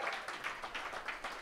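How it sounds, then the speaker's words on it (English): Comedy club audience applauding for a stand-up comedian, a steady dense wash of clapping heard from a moderate distance, fairly soft and even throughout without talk. "Give him a big round of applause."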